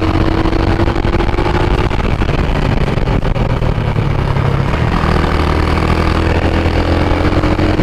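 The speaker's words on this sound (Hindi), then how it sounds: "इस बाइक का एग्जॉस्ट ना काफी अच्छी साउंड कर रहा है" A motorcycle engine runs steadily throughout, its exhaust note a continuous low rumble mixed with traffic noise, loud and close.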